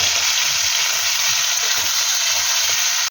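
Onions frying in a pan, sizzling steadily and close, with soft intermittent scrapes and clacks as they are stirred, no voices over the cooking.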